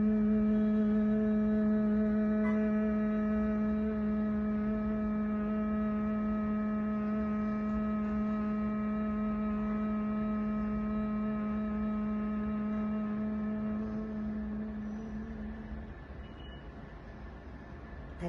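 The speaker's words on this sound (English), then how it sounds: "we try and make this humming sound uninterrupted as long as we can" A person makes a sustained humming sound during a breathing exercise, one long steady nasal drone holding for about fifteen seconds before fading out, close and alone.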